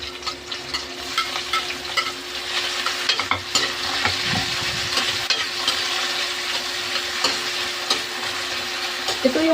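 Canned mackerel sardines sautéing with onions in a pan, a steady loud sizzle broken by repeated scraping stirs of the utensil against the pan, with no talking.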